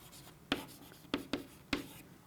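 Pen strokes on a surface during a maths lesson on differentiation: four sharp, close scratchy taps spaced irregularly, alone without talk.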